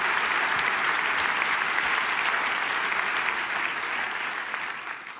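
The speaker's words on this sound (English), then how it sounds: "I'll clap to my mother." Audience at the German Sustainability Award ceremony claps loudly and continuously in a dense, even wash of applause that fades slightly near the end.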